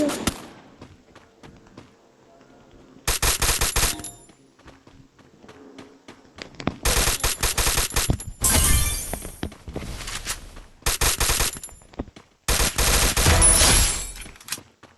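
Gunfire in the video game Free Fire comes in several loud rapid bursts separated by quieter gaps with small clicks, close and punchy; no talk is heard.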